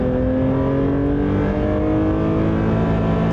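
A Porsche 911 S/T (992) with a naturally aspirated engine revving up toward 6,500 RPM, a loud, close, sustained engine note whose pitch climbs steadily throughout.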